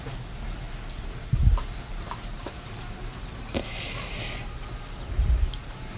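Local chickens on a farm, scattered soft clucks and calls at moderate distance over outdoor background noise, with a couple of low thumps.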